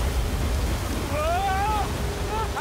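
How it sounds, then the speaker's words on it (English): Rushing waterfall in the video game Uncharted 4, a steady broadband roar of falling water running throughout, with a voice speaking over it partway through. "Waterfall."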